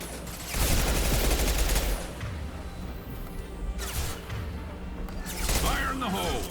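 Gunfire in Mass Effect 2: loud bursts of rapid shots and explosive impacts come in waves, with a player's voice talking over the combat.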